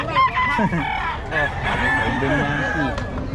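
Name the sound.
bull stag gamecock crowing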